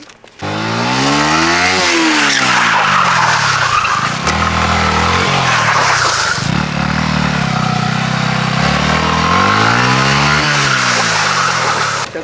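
Yamaha MT15 motorcycle tyres skid and squeal loudly through stunt runs, the engine revving in rising and falling sweeps between long, continuous tyre screeches that run for about twelve seconds with no voices.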